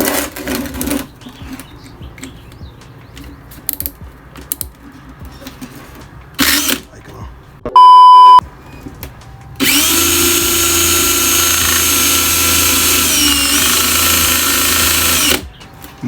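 A power drill whirs steadily for about six seconds, spinning the speedometer cable of an Italika FT 110 café racer motorcycle, preceded by scattered handling clatter and a short electronic beep, with no talking.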